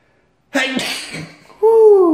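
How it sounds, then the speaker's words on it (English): A person lets out one loud, abrupt sneeze up close, followed by a short voiced exclamation. "oh no, I'm gonna sneeze"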